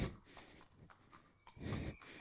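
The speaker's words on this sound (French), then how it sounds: "Un cheval magnifique." At Boardsmill Stud, an Irish stud farm, a stallion's hooves clop quietly and irregularly nearby, with a faint, brief whinny, and a louder rustling scuffle toward the end.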